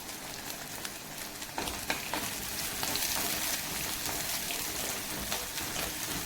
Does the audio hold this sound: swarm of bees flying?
no